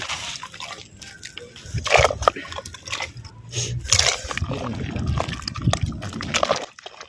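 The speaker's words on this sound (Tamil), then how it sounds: "ஒரு முறைக்கு ரெண்டு முறை நல்லா தண்ணி ஊற்றி நல்லா அலசிக்கிறான்" Pieces of country chicken are rinsed twice in water by hand, with close sloshing, squishing and dripping in uneven bursts.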